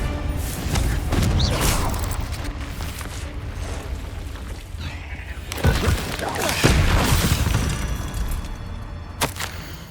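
Confringo fire spell blasts in Hogwarts Legacy, a loud stretch of booming impacts and crackling bursts with whooshing swells, the explosions rising again near the middle and ending in a sharp hit.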